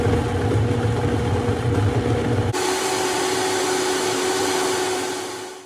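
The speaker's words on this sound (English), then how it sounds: "All we have to do now is blend." A Vitamix blender whirs loudly and steadily as it blends a chocolate smoothie, its motor tone stepping up to a higher speed midway and then running on close and alone.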